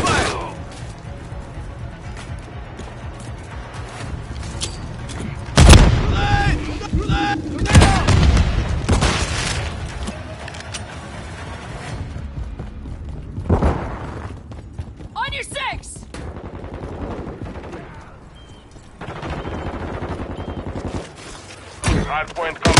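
Rattling gunfire and booming explosions fill a Modern Warfare III multiplayer hardpoint match, loud and sustained with sharp blasts, while an in-game announcer voice calls out over the battle.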